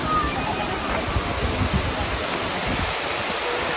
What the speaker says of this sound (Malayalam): ഇതാണ് കുറ്റ്രാളം വാട്ടർഫോൾസ്.